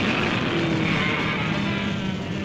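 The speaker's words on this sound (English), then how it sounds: "No, Colonel, those aren't our jets. Those are spacecraft." A spacecraft roaring overhead in a Godzilla audio drama, a loud continuous rushing jet-like drone that holds steady and close for the whole stretch, with no talking.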